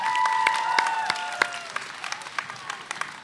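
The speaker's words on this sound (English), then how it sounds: "Applaud your poets, not the scores." Audience at a high school spoken word poetry event applauding the poets, a burst of crowd clapping that fades to scattered claps while a voice speaks over it.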